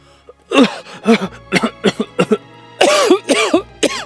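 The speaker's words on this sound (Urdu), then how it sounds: "اندر سے کھانسی کی آواز آ رہی تھی" A string of harsh, close coughs from an old man lying on a cot, about ten in quick, uneven succession, with short pauses between them.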